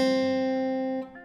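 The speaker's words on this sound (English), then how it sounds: "I just find a guitar one shot that sounds like this" A single guitar one-shot sample in FL Studio for a dark piano-style beat, one clean plucked tone ringing out steadily and fading slightly before a soft cutoff near the end, moderately quiet and alone.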